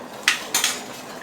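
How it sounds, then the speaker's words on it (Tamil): A ladle scrapes through coconut milk rice in a cooking pot, two short metallic strokes close by against a quiet background. "அப்பப்போ கொஞ்சம் மெதுவாக கிண்டி விடுங்க"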